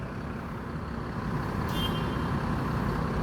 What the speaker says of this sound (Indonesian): Sudah masuk satu unit bus Sinar Jaya yang rute Palembang Jakarta ya.